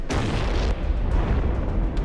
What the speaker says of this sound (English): And we set off the biggest explosion in MythBusters history.